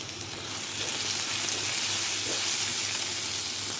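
Chopped tomatoes and mint sautéing in a pan for chicken kurma give a steady, close, hissing sizzle that holds evenly throughout with faint bubbling and no talk.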